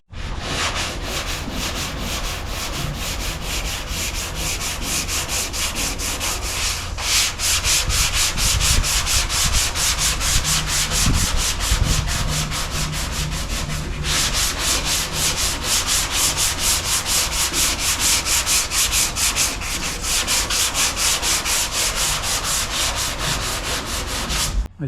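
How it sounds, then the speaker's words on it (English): Steady, rhythmic scraping of a sanding block rubbing guide coat off the body panels of a Nissan D21 Hardbody truck, continuous close-up strokes with brief pauses, no voices. "I started to block sand all this area"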